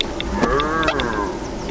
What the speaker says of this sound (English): some guy herding cows down the road